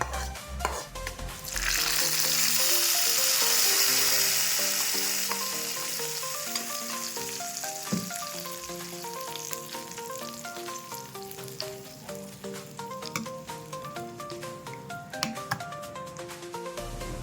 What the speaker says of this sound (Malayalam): കടുക് വറുത്ത് കൊട്ടാം